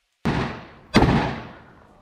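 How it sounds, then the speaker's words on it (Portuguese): Gunshots in a real street confrontation, one striking a pole: two loud sharp reports, the second louder, each followed by a long echoing decay, with no voices. "Deram um tiro no poste"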